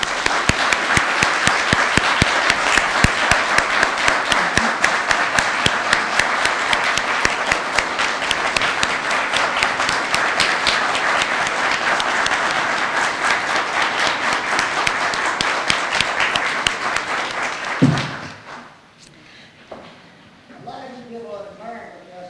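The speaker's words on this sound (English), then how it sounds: "I think they deserve a round of applause for that" An audience at the official opening of the restored historic Henry County Courthouse applauds loudly and steadily for about eighteen seconds, dense clapping that then drops away, leaving a quiet room with a faint voice starting to speak.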